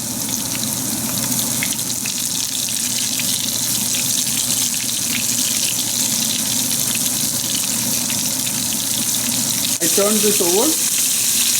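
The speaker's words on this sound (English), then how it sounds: "We'll fry it on high till the outside is golden." Battered shrimp deep-frying on high heat in oil, a loud, steady, hissing bubble that runs without pause, with a person talking briefly near the end.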